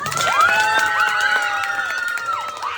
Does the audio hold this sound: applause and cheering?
yes